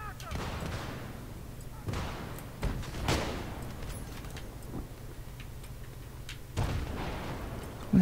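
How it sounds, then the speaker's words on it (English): Several heavy booming shots ring out from a tank in Battlefield 3 during a Conquest match on the Seine Crossing map, spaced irregularly over a steady low rumble of battle, with faint voices in the background. "What the hell is this tank shooting at?"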